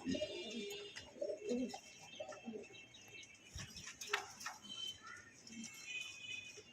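Pigeons kept for sale in Mirpur, Dhaka, coo softly and repeatedly at close range, low rolling calls scattered through a quiet background with faint shuffling.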